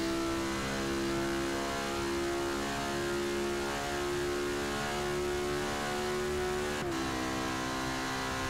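A Lamborghini race car engine at the Rolex 24 endurance race drones loudly with a steady high-pitched whine, holding on for several seconds before a brief shift in pitch near the end, with no voices.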